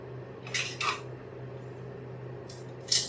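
Steak plate handled in a home kitchen, a few sharp ceramic clinks and clatters in two brief clusters over a faint steady background hum.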